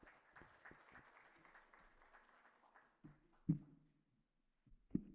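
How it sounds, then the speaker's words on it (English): An audience at a networking event claps at low volume, the applause spreading as a rapid patter of hands before thinning out into a few isolated louder claps. "Can we have a huge round of applause for him?"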